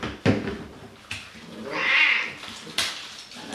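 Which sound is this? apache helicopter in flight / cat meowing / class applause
cat meowing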